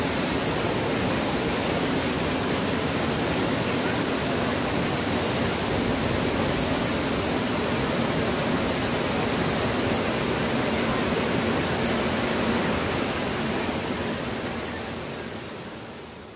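Curug Aren waterfall roaring as a steady, dense rush of falling water close by, broad and unbroken throughout, easing slightly at the very end.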